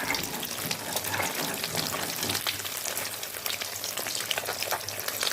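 Hilsa fish pieces rubbed with salt and turmeric frying lightly in hot oil in a wok, a steady close sizzle and crackle of spattering oil throughout, no voices.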